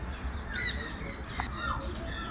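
A bird gives a few brief, faint squawks at a zoo in Saudi Arabia, against a steady low background rumble.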